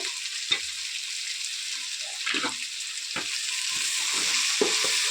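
Mint leaves frying in hot oil in a pan while mushroom biryani is cooked: a steady, fairly loud broadband sizzle runs throughout, with a few soft stirring scrapes and clacks on top, and no voices.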